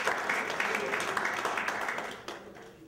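A congregation at a chapel revival meeting applauds for Jesus, a steady wash of many hands clapping that fades out near the end, with voices mixed in.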